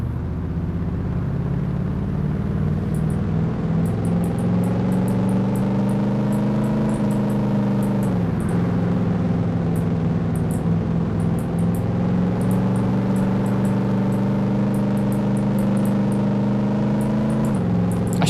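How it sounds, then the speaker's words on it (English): A truck engine in the modded DayZ video game drones loud and close, a steady humming rumble that dips and shifts pitch briefly twice, with faint ticking above it and no talk. "as much as I love the sound of the truck makes, it does get pretty loud and annoying sometimes"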